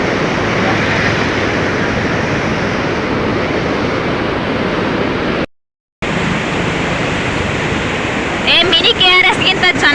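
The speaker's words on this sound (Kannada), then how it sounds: "ಇಲ್ಲಿ ನೋಡಿ ಹೆಂಗೆ ಹರಿದೋಗ್ತಾ ಇದೆ ನೀರು ಅಂತ. ಎಷ್ಟೊಂದು ನೀರು ಹೋಗ್ತಾ ಇದೆ ನೋಡಿ ಇಲ್ಲಿ" A large volume of water rushing from Aruvikkara dam near Trivandrum, heard as a loud, steady, close roar that fills the whole clip, with voices briefly rising near the end.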